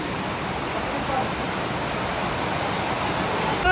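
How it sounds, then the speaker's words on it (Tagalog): Steady downpour of heavy rain on a farm, a loud unbroken wash of noise that swells slightly toward the end. "Grabe, lakas ng ulan."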